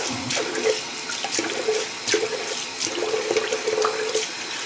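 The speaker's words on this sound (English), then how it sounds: "just going to rinse some of this hair down the drain, because there's quite a bit of it" Water running steadily from a faucet into a sink, rinsing shaved hair down the drain, with a continuous close splashing gurgle and no talking.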